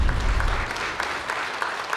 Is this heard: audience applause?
yes